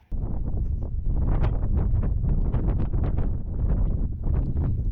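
Strong wind blows in a snowy mountain glen in loud, irregular gusts that buffet the microphone in a steady roar, with no voices.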